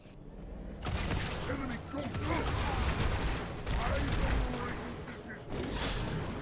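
Rockets fired from a rocket launcher in Halo 2 Anniversary while fighting a Ghost vehicle, with loud, dense blasts and rapid battle gunfire rumbling continuously, and a voice speaking over the combat.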